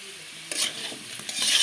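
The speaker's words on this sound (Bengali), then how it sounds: "মাংসের জন্য আলু ভাজে নিলাম" Potatoes frying in a pan, a brief burst of sizzling with stirring scrapes and clinks that flare up partway through and stay close and moderately loud.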